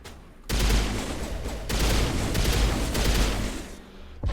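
Sustained burst of gunfire in the sci-fi shooter Mass Effect, loud and dense from about half a second through four seconds with a brief dip midway, then a sharp final report at the end.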